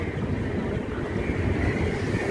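Howrah–Malda Intercity Express rolling slowly through Khana Junction without stopping, a steady low rumble of wheels and carriage noise heard from inside, continuous and even with wind buffeting.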